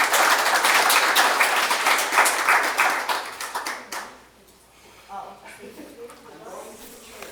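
An audience at a historical symposium applauds after presentations, sustained clapping for about four seconds that fades out, followed by a speaker talking into a microphone.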